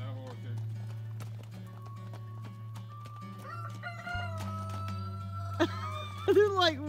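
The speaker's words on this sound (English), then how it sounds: "Hello, horses." Horses released into a new enclosure on a homestead, with hoof clip-clops and a rooster crowing nearby over a steady low background hum.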